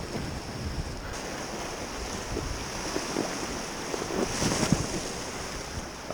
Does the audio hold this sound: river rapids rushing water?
yes